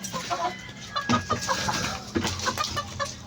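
A gamecock rooster clucks repeatedly up close, short throaty clucks in an irregular rhythm with other faint fowl sounds around.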